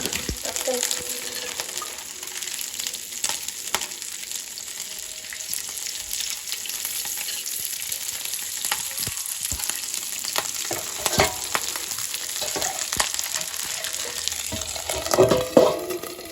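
Fish frying in hot oil gives a continuous, close crackling sizzle that grows slightly busier toward the end.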